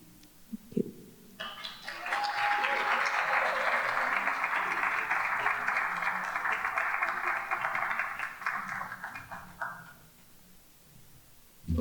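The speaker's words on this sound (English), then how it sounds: "Give her a round of applause again, please" An audience at a Labour Day gathering bursts into strong, sustained applause that swells quickly, holds for several seconds and then tapers off, with a brief voice before it begins.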